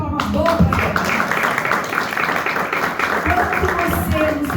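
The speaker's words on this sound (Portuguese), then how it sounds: "Uma salva de palmas boa para eles." Church audience applauding at a family celebration service, a dense continuous wash of clapping filling the whole stretch with voices mixed underneath.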